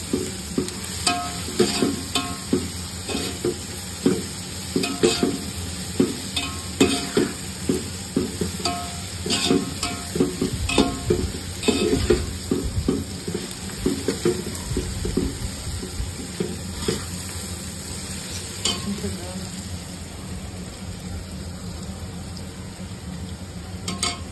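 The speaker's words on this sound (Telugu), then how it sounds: "మంచిగా ఆనియన్స్ అయితే వేగినాయి" Onions fry in oil for chicken biryani while being stirred hard and often: loud, busy scraping strokes over a continuous sizzle, easing slightly toward the end.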